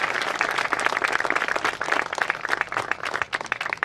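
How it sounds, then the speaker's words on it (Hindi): A crowd applauds at the opening ceremony of a bio-coal factory in Mohan Badodiya, Madhya Pradesh, with dense, continuous clapping that stays fairly strong throughout before thinning slightly at the end. "उनके पिताजी के लिए भी जोरदार तालियां बजाई जाए।"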